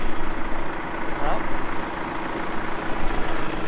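A 312 tractor's engine runs at a steady, low idle out in a field being prepared for sunflowers. It makes a continuous rumble, heard close, with someone speaking briefly over it.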